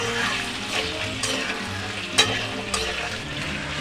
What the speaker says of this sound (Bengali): জাস্ট এখন আমি ভেজে নিচ্ছি, তাই জন্য একটু হাই ফ্লেমেই ভেজে নেব